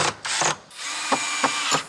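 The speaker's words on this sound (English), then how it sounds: "And we're getting our pocket screws set in each hole." A power drill drives pocket screws into wooden holes while building a flush-mounted duck pool, giving several short bursts of whirring close by with brief pauses between them.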